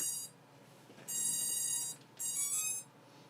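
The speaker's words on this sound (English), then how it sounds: "we should hear the ESCs beep when I plug this in" Electronic speed controllers on a drone with a Seriously Pro F3 flight controller emit beeping tones as the flight battery is plugged in, two sustained bright tonal bursts with a quieter start, heard alone with no talking.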